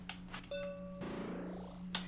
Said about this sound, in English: I just walk over there and ring the copper bell